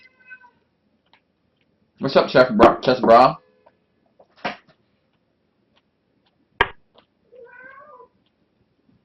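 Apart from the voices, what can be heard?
cat meowing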